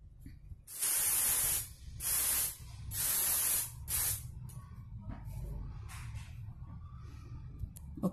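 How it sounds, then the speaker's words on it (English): Hairspray sprays from an aerosol can in four loud, close hissing bursts of about a second each, separated by short pauses, followed by quieter handling noise. "take any hairspray and just spray it over here"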